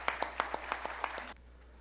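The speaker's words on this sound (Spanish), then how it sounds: "Pues sí, un aplauso." Brief, sparse clapping from an audience thanking a speaker at a seminar on tax matters, a handful of distinct claps in a steady rhythm over about a second before stopping abruptly.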